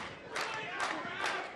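A wrestling crowd chants and cheers in rhythmic swells, three distinct surges in quick succession, with a commentator's voice faintly underneath.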